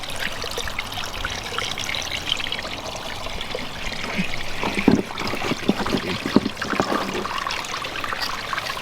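Water trickles and splashes over a waterfall liner during a renovation with an Aquascape 12-inch spillway filter, a steady close wash with scattered louder drips and spatters midway.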